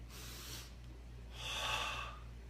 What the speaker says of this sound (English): Same breathing technique.